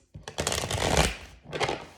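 Tarot cards being shuffled by hand in two bursts of crisp riffling and flicking, a longer run followed by a short pause and a second quick shuffle, close and clear.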